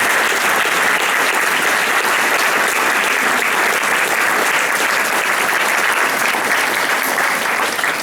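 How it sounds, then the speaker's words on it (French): Conference audience in Arlon applauding steadily, a dense continuous roar of many hands clapping at close range with no pauses throughout. "Applaudissez-les."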